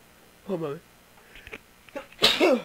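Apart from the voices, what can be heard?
character sneezing in World of Warcraft video game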